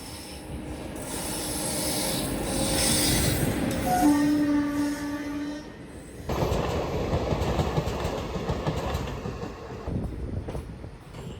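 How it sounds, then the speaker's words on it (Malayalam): A diesel-hauled train passes a crossing in the Palakkad Gap, with a loud sustained horn blast over rumbling wheels and clattering cars that continue steadily close by. "ഒരു ഡീസൽ എഞ്ചിനാണ് കേട്ടോ ഈ വരുന്നത്."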